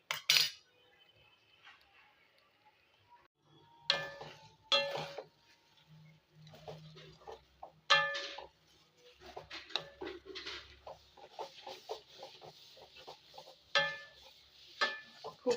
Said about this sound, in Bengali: খুব ভালো করে এর সাথে মিশিয়ে নিচ্ছি